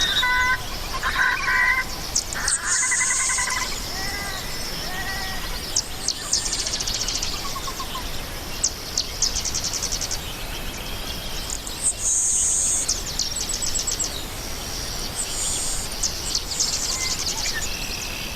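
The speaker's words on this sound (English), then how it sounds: "there's also a savanna sparrow calling" Busy wetland soundscape of overlapping bird calls and chirps, including a savanna sparrow's thin buzzy song, repeating in bursts throughout over a steady background hiss of insects.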